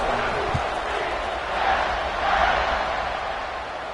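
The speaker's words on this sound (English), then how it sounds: "this crowd is buzzing after that last score" Football stadium crowd buzzing after a score, a steady broad roar of many voices held throughout, swelling slightly midway, with a brief thump near the start.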